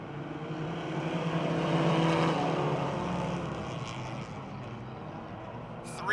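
Four-cylinder American Flyers entry-level race cars roar off together at Motordrome Speedway as the green flag drops, a loud, sustained engine rumble that swells and then eases slightly, with a faint voice underneath.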